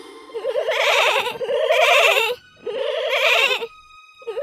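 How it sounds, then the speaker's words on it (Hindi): Young goats bleat in three long, wavering cries with short gaps between them, loud and close, with a brief start of a fourth cry at the end. "जब वो घर में आए तो उन्होंने बकरी के बच्चों की आवाज सुनी"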